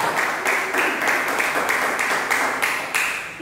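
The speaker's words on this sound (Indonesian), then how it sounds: "Tepuk tangan buat Allah Immanuel kita." Congregation at an online church service in Gombong clapping in time, a regular, fairly sharp beat of claps repeating roughly every third of a second, moderately loud and without voices.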